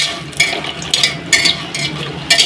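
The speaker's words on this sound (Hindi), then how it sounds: "मखाना फ्राई हो जाने पे हाई फ्लेम कर ले रहे हैं" Makhana (fox nuts) frying on a high flame, with bursts of stirring and scraping in the pan that recur about every half second to second over a low, steady sizzle, close and fairly loud.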